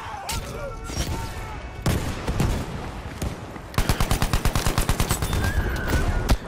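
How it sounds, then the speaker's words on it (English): Gunfire crackles through a Battlefield 5 match at Iwo Jima, with scattered single shots early and then a rapid automatic burst of evenly spaced loud reports, plus distant battle noise throughout. "Oh, that's a sniper."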